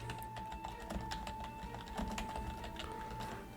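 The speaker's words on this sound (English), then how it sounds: "So let me get that typed in there real quick," Rapid keystrokes on a computer keyboard, an irregular run of light clicks typing a company name, steady and close over a faint constant electronic hum.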